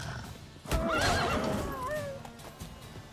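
Roach the horse in The Witcher 3 lets out a loud, close, drawn-out whinny with rising and falling pitch over a steady clip-clop of hooves, followed by quieter hoof steps.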